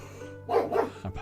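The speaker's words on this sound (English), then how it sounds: "I think Daruk heard a dog barking just then" A dog gives two quick barks followed by a short softer yelp, close and fairly loud over a low steady hum.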